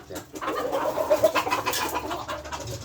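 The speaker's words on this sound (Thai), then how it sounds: "แต่มันเป็นไก่ต่อนะครับ ตัวเมียนี่เป็นตัวเมียสายต่อ" A decoy hen of a fighting-cock bloodline in Na San, Surat Thani, clucks close by in a short run of soft, repeated calls with a few sharper notes, alone without speech.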